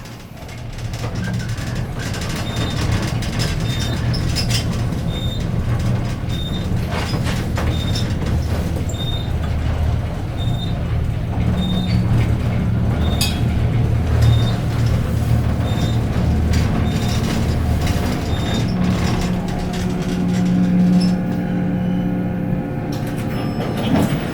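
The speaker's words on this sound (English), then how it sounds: "I'm actually just riding the elevator" Armor traction elevator running in a casino tower at the Downtown Grand in Las Vegas, a steady loud low rumble with mechanical whir and faint periodic high ticks throughout the ride, no talking.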